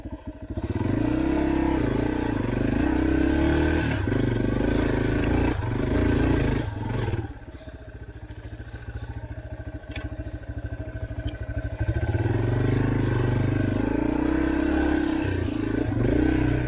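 Motorcycle engine running loud and steady as the bike is shifted into gear and ridden over rocks on a rough trail, with clattering and scraping in the middle stretch and the engine swelling again toward the end.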